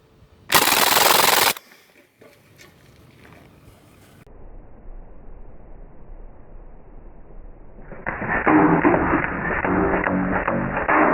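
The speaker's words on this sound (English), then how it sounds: "Full auto burst, here we go." A Crosman DPMS SBR full-auto BB rifle fires a loud, sharp burst lasting about a second, followed by quieter rattling and then a steady broadband rush of noise later on.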